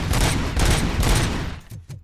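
Sustained video game gunfire from Robocop Rogue City, a dense, loud fusillade of overlapping shots that rolls on continuously, then thins into a couple of separate bursts before fading near the end.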